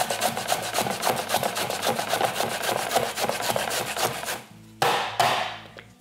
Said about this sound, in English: I'm just going to grate it and juice it in my hands.